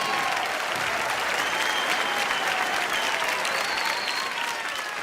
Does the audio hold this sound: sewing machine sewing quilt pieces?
no